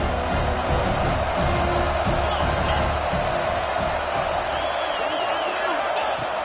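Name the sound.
crowd at a Clemson football game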